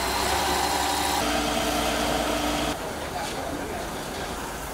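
Construction machinery working on a riverbank anti-erosion embankment project, a steady loud engine drone and vibration that drops in level partway through, with a voice speaking over it.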